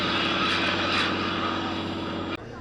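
A Fairey Swordfish biplane flying at the Duxford Battle of Britain airshow, its propeller engine a steady, moderately distant drone that cuts off sharply near the end.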